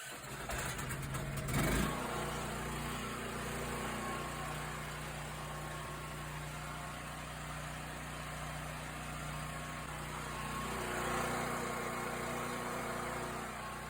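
A Predator 8,750 watt generator runs steadily at idle after an electric start, a continuous mid-pitched engine drone with a brief louder burst near the start and a slight swell later on.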